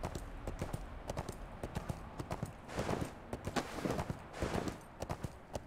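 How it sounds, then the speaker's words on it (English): Skeletal horse hooves clip-clop steadily in the game ArcheAge: Unchained, a quick, even trot of sharp knocks kept fairly quiet and near, with no talking over them. "There's one of those skeletal horses that we saw at the one area."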